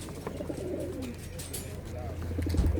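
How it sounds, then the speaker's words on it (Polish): Pigeons coo at a pigeon market in Radom, producing soft repeated coos that sit under nearby talk and crowd murmur. "Tu mamy takie gołębie z pierwszej półki,"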